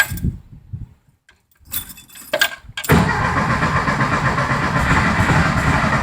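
A 1973 VW Beetle, stored for 30 years in a shipping container, turns over on its first start: after some quiet clicks and clinks, the air-cooled engine catches and runs loud and steady for the last three seconds.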